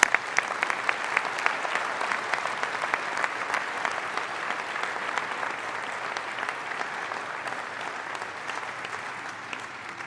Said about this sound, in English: So I'd be grateful if you could take a moment to give them a huge round of applause.